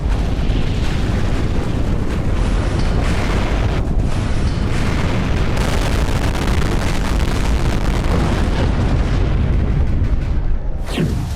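Atom bomb explosion effect, a sustained, heavy roaring rumble like a massive blast, loud and dense throughout, ending in a brief sweeping whoosh.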